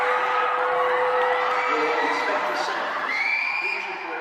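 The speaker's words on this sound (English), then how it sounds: "the screams, the panic." A crowd screams in panic outside the Manchester terror attack, with loud, overlapping shrieks and shouts sustained throughout before easing slightly at the end.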